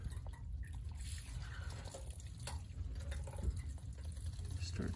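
Water splashes and trickles as it rinses a home air conditioner's drain pan, a steady close wet spatter with drips, and a voice talking faintly over it.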